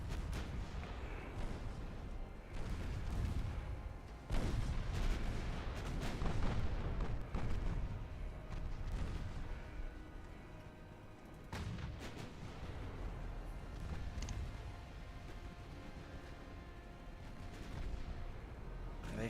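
Naval artillery from warships in the Ultimate Admiral Dreadnoughts battle game, a steady roar of distant heavy gunfire with overlapping booms and rumbling shell blasts throughout, loud and continuous.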